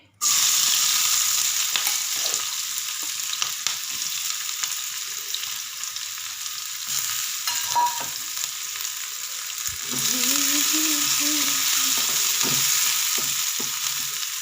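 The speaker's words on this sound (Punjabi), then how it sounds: "ਉਧਰ ਸਾਡਾ ਆਇਲ ਵੀ ਗਰਮ ਹੋ ਚੁੱਕਿਆ ਹੈ ਦੇਖੋ ਇਹਦੇ ਵਿੱਚ ਮੈਂ ਇੱਕ ਪਿਆਜ਼ ਪਾਵਾਂਗੀ ਪਹਿਲਾਂ ਕੱਟ ਕੇ" Chopped onion sizzles and fries steadily in hot oil, a loud, continuous crackling hiss that swells again near the end as more food hits the pan, with occasional stirring clatter and no talk.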